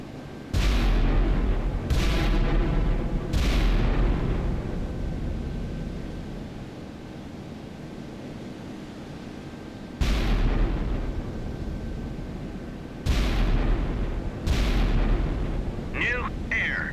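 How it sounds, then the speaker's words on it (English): Heavy naval gunfire from the battleship Wisconsin in the game Sea Power: several loud, booming salvos, three early in close succession and more later, each with a long rumbling tail under a faint steady hum. "Salvo fire."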